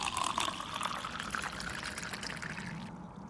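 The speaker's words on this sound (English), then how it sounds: "Relaxing sounds of trickling water." Water trickles and pours in a steady, soft splashing stream, close and continuous, with faint gurgles, then thins slightly toward the end.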